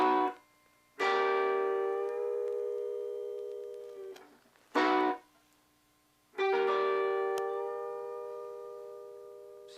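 Electric guitar licks in a western swing country style, imitating a steel guitar: three sustained, sliding chords ring out and slowly decay, separated by short gaps, played alone and fairly close.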